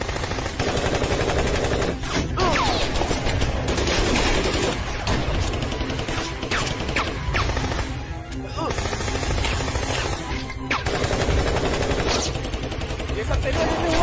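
Film-scene gunfire rattles almost without pause, loud bursts of automatic shots and single cracks layered densely together with no clear gaps.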